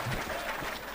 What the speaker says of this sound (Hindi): डरिएगा नहीं इन तालियों से जी